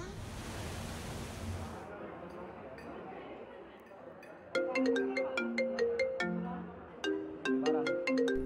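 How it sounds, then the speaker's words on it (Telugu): Mobile phone ringtone from an incoming call, a bright chiming melody of repeated notes that starts partway through after a burst of noise and softer background, fairly close and clear. "గాయ్స్, అమ్మ కాల్."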